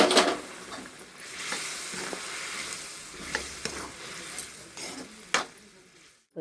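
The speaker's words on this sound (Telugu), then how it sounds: "ఉడకబెట్టుకున్న నూడిల్స్ కానీ మ్యాగీ కానీ వేసి మంచిగా కలపాలి." Boiled Maggi noodles and vegetables stirred in a pan, a close continuous sizzle with scraping and occasional sharp utensil clinks against the pan, ending abruptly.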